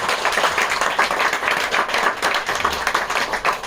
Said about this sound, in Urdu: آج اگر آپ تمام لوگ اس بات سے متفق ہیں تو آپ لوگوں کی تالیاں بجائیں گی